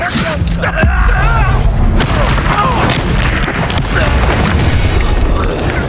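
Confringo and other fire spells bursting in Hogwarts Legacy combat, loud booming blasts and crackling impacts layered densely with game music and shouted dialogue, near and continuous throughout.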